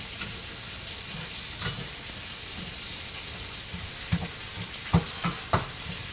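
Spices sizzle steadily in hot oil for a green bean and potato curry, a continuous close crackling hiss with a few louder pops and stirring clinks near the end, no talking.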